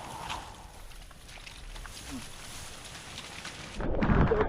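Steady rain hisses throughout, then a deep roll of thunder swells up near the end, close and loud.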